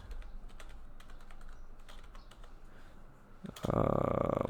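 Someone types on a computer keyboard in a rapid run of close key clicks. Near the end a louder, denser burst of sound comes in. No one speaks.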